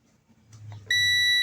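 After a few faint clicks and light handling noises, a multimeter's continuity buzzer starts abruptly, a loud steady electronic beep holding continuously, close and piercing, while testing a shorted amplifier.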